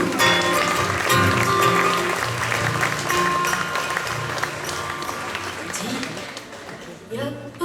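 Concert audience applauding, a dense sustained wash of clapping that stays loud throughout, with voices and a few musical tones mixed underneath.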